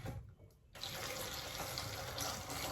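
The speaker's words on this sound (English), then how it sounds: "You will come pour water inside." Water poured into a container full of bananas while making banana wine, a steady splashing fill starting after a short quiet moment and running on evenly, close by and fairly loud.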